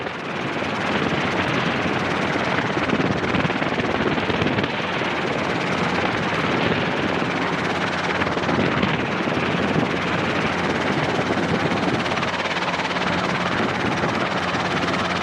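A Robinson R22 helicopter thunders continuously from inside or very near during takeoff, rotor chop and engine roar steady throughout with no break.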